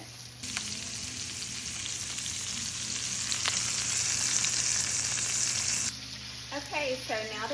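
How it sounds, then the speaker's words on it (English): Coulotte steaks sizzle in grass-fed butter in a pan, a loud, continuous frying hiss that holds steady and then drops in level near the end, with a brief faint voice-like sound at the close. "So let me get those cooked for just a few more minutes."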